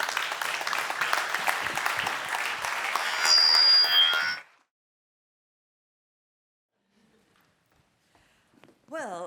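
Conference audience applause, dense and steady, then stopping abruptly and leaving near silence; a faint sound returns at the very end.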